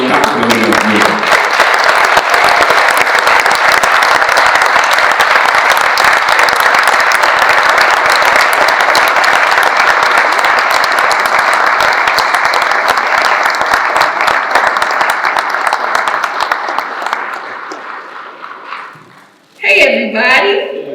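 A crowd at a political campaign event applauds a vice-presidential candidate, loud sustained clapping and cheering that fills the room, then fades out before a voice begins speaking at the end.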